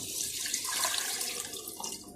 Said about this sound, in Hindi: वही मैंने 1 जग पानी का डाल दिए।